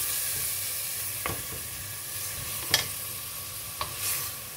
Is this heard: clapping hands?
no